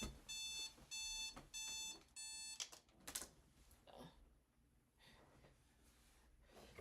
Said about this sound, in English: Hold on, my alarm.